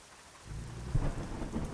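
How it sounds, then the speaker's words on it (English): Rain and thunder in a video game, with steady rainfall on surfaces and a loud rumbling thunder crack near the middle, continuing under the rain without any talk. "Oh, the thunder was loud."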